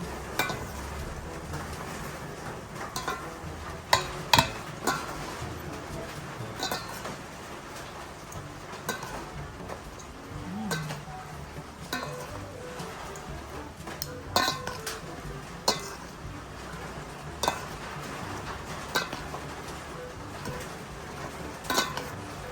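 Pako (fiddlehead fern) salad being tossed together, with steady close clinks and scrapes of a utensil against a bowl, quick irregular clatters repeating throughout and no talking.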